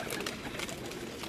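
Pigeons on a rooftop cooing in a low, steady murmur with faint overlapping calls and outdoor hiss, no voices present.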